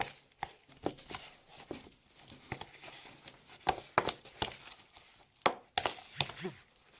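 Homemade play dough being stirred by hand with oil and flour: scattered soft taps and scraping clicks at an irregular pace, close by and fairly quiet, with no voice.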